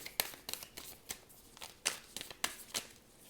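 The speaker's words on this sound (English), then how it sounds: "let's just shuffle" A deck of cards is shuffled close up, quick riffling bursts and snaps repeating in an uneven rhythm, fairly quiet and with no voices.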